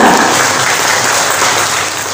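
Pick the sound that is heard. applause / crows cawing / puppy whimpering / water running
applause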